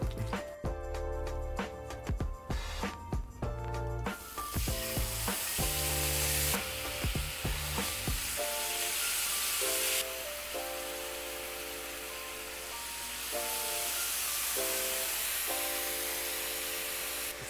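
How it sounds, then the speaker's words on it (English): Korean short ribs in soy sauce frying in hot oil, a loud continuous hiss and crackle that starts under busy clattering and tonal beeps, then settles into a steady roaring sizzle with music-like tones over it. "The soy sauce pops a lot, so just be careful"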